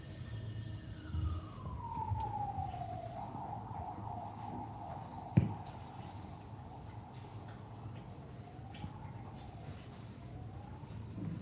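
Ambulance siren wailing, its pitch sweeping down and then rising and falling slowly, heard at moderate distance with a single sharp knock midway and faint background noise.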